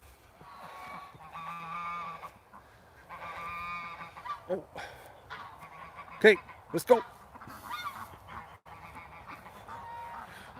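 Canada geese honk repeatedly as they take off, a flock calling loudly at mid distance with a few sharp nearby honks, and people talk briefly over them.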